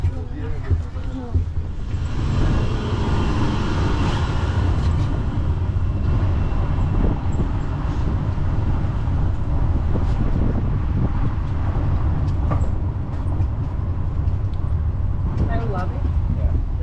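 A tourist road train in Punta Cana rumbling along with engine and wheel noise, wind buffeting throughout, and people chatting over it.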